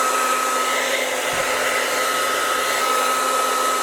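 A heat gun blows a loud, constant whine-and-rush of air while warming the grip of a Kel Tec KSG 12-gauge shotgun, with a steady tonal hum running through it and no talk.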